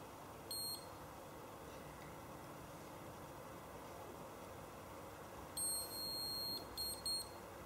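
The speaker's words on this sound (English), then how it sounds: "That final beep just indicates that my 2 minutes are now up" A galvanic facial spa device's timer gives a short electronic beep once, then after a stretch of quiet hiss a longer beep and two brief ones follow, faint and close.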